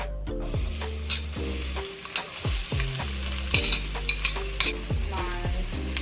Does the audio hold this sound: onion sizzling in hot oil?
yes